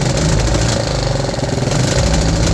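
A 3D-printed engine runs hard: a loud, continuous mechanical drone with a pulsing, throbbing rumble and a rattly edge, holding steady throughout without speech.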